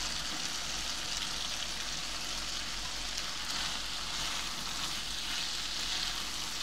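Loitta dried fish and jackfruit seeds fry in a masala, giving a steady, dense sizzle that holds evenly throughout without any breaks or voices.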